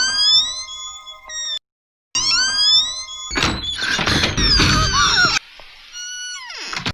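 An unoiled door in a haunted house creaks with long, high, wavering squeals. After a brief silence comes a heavy thud, then more groaning creaks that trail off.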